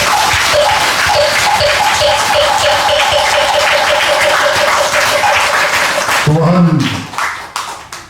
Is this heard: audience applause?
yes